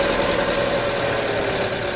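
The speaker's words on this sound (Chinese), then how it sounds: "打火的时候叽叽响" A car engine at start-up with a slipping drive belt squealing, giving a steady, loud high-pitched whine over the continuous engine drone.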